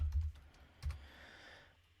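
A few quiet, soft keystrokes on a computer keyboard as a command is typed, two brief clusters of clicks separated by a short pause, faint and close with no talking.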